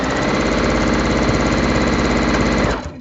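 A sewing machine stitches a quarter-inch seam through layered quilt fabric, a steady continuous mechanical whir running loud and close for about three seconds before stopping abruptly.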